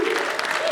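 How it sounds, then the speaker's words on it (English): Audience applause at a Liverpool comic con panel, a brief burst of clapping from the crowd heard close and steady, with a voice faintly mixed in. "Round of applause for our wonderful question"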